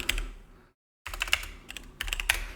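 Computer keyboard keys clatter in quick bursts at close range, pausing in near silence before resuming, while a giveaway winner's name is typed in during a Pokémon TCG card giveaway.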